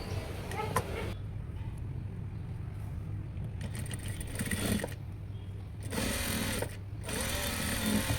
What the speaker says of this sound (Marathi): मग ते आतमध्ये फोल्ड करून परत त्यावर एक टीप मारायची आहे